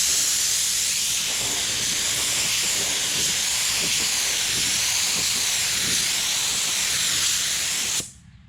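A spray gun lays a second coat of automotive paint on a car panel during collision repair, a steady, close hiss running unbroken for about eight seconds before cutting off abruptly into silence.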